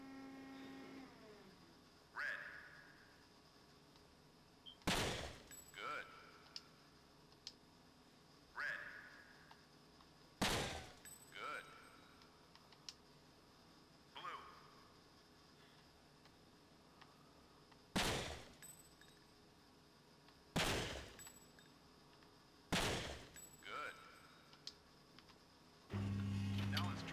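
Gunshots ring out at shooting targets in the video game Breakdown, a series of about eight sharp, loud single reports spaced several seconds apart, with quieter softer hits between them over a faint background hum.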